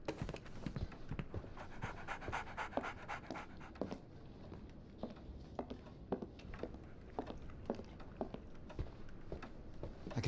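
A dog in the Sherlock Holmes: The Awakened video game pants quickly and steadily nearby, with soft wet huffs and small sharp clicks in a fast, uneven rhythm that keeps going throughout.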